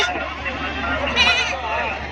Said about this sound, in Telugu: మొత్తం వచ్చేసి తొమ్మిది మేకలు ఉన్నాయి